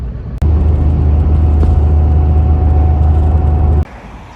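A steady, loud low engine drone and road rumble from riding inside a big bus, starting and stopping abruptly with a continuous hum between.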